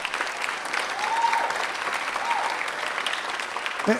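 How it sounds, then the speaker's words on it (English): An audience at a library ribbon-cutting ceremony applauds, a dense, even patter of many hands clapping at moderate volume, sustained throughout without pause. "let's give Dr. Hayden one last round of applause"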